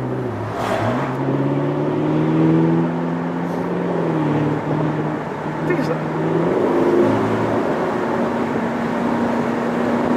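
A car accelerates with a rising, steady engine tone that climbs and holds at moderate loudness throughout, with voices talking over it now and then.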